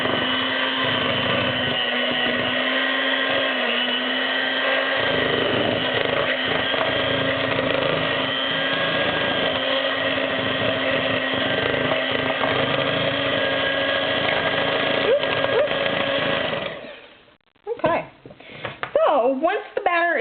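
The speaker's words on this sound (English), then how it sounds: "So let's do a little bit more mixing." An electric mixer whirs steadily through vegan chocolate cake batter for most of the stretch, then cuts off near the end, leaving brief clatter and talking.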